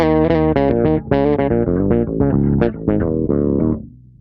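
A bass guitar through a Darkglass Anagram effects unit plays a choppy run of plucked notes through a gritty, distorted filter effect, punchy and up close, with no voices.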